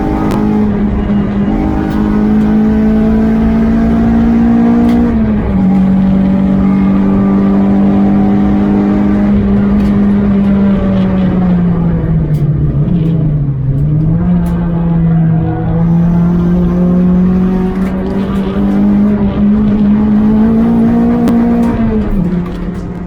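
Saloon race cars roar around the Thruxton circuit in a BARC Saloons race, a loud sustained engine drone from inside the car with steady pitch and brief dips as revs shift, continuous throughout.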